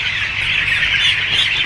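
A dense, steady chorus of chickens fills a large chicken-farm shed with a constant high chattering murmur and no breaks or talk.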